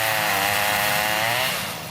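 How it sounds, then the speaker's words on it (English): A chainsaw runs loud and close, cutting through storm-damaged trees on a neighborhood street with a steady, buzzing engine whine that eases slightly at the end. "the sound of chainsaws filled streets that were quiet just 24 hours"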